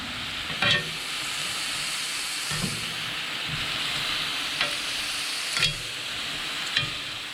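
Mushrooms fry and brown in a pan, giving a steady close sizzle with a few soft stirring scrapes and clacks spaced through it.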